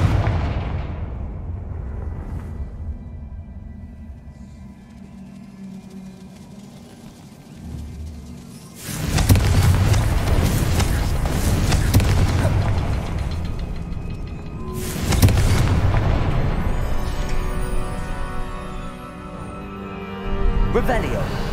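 Confringo fire spells explode in the video game Hogwarts Legacy. Two big booming bursts land several seconds apart, each trailing into a long crackling rumble, with a quieter stretch and some speech-like game sound before them.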